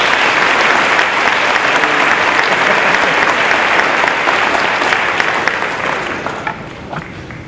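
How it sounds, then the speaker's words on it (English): Loud, sustained applause from a high school Veterans Day audience greeting the speaker, a dense wash of many hands clapping that holds steady and then begins to thin toward the end. "please give a warm round of applause for our speaker"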